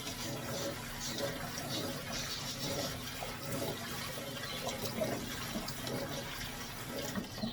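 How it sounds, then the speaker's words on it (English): Acorns being rinsed under running water, a steady rush of water splashing into a container that continues evenly throughout, close and fairly loud, with no voices. "So then, I pick this up, and I put it in here, and then I rinse."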